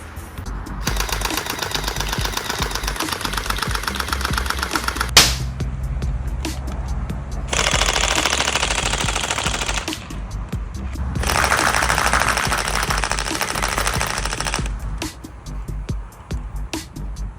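Gel blaster fired on full auto with an upgraded 11.1v battery, two sustained bursts of rapid mechanical buzzing and clacking, loud and close, each lasting several seconds with brief pauses and faint shots between.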